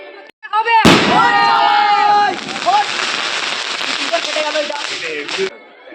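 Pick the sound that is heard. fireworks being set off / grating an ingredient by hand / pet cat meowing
fireworks being set off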